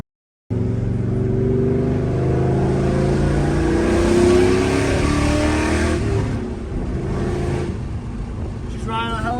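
Ford Mustang engine running while driving after a low-RPM stumble fix, a loud close rumble whose pitch rises and falls as it accelerates and shifts, with voices briefly over it near the end.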